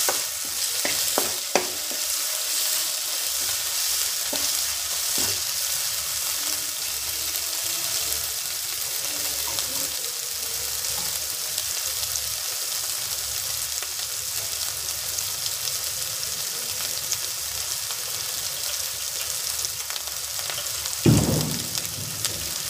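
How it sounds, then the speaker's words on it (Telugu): Masala paste sizzles steadily in a pan for a long stretch as it is fried for a chicken dish, with a few scraping stir strokes early on and a louder clatter near the end, no voices. "బాగా ఎర్రగా ఈ పేస్ట్ అనేది ఎర్రగా బాగా వేగాలి."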